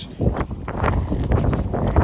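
Strong wind buffets the microphone in steady low rumbling gusts, continuous and loud throughout, outdoors while fishing for carp.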